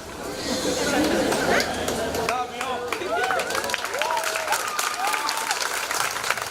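A graduation audience applauds loudly at first, the clapping thinning into scattered claps as chatter and cheerful voices rise over it.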